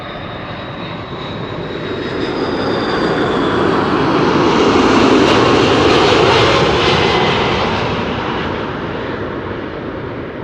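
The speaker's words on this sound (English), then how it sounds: "So the C-17 underway." C-17 military transport aircraft engines at Amsterdam Schiphol Airport, a broad jet roar that swells steadily toward a loud peak around the middle and then slowly fades, with a faint high whine on top.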